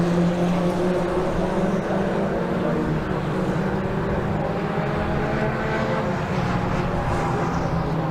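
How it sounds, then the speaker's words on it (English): A Brabham BT30 Formula 2 race car running a lap at a circuit, its engine a loud, steady drone that stays close and sustained throughout, with no voices. "There is the F2 car running again, a lap down now, but listen to it."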